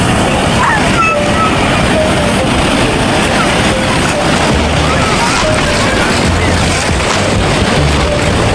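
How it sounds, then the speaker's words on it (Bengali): Sea waves wash steadily at Baga Beach in Goa, a dense, loud broadband roar of surf that stays constant throughout, with low rumbling gusts and no clear voices. "জলের আওয়াজ শুনতে পাচ্ছ"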